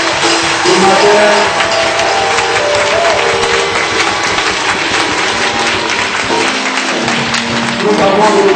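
A church congregation cheers and applauds in a dense, sustained wave of clapping and crowd noise that stays loud throughout, with a voice carrying over it.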